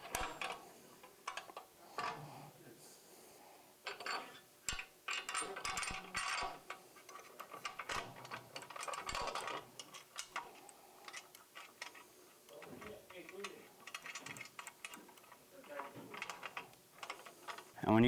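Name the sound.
bolts being tightened down on a Harley Softail fender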